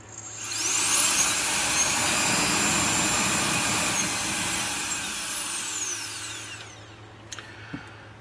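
A KICA Jetfan Max cordless jet blower roars loudly and steadily up close, its high whine shifting pitch before it winds down and cuts off, leaving a few faint clicks.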